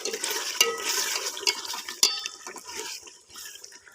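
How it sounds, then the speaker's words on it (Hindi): Chicken karahi is stirred after salt goes in, with wet squelching and a spoon clinking against the pot in uneven strokes, close and fairly loud. "नमक ऐड करने के बाद अच्छे तरीके से इसको मिक्स करेंगे।"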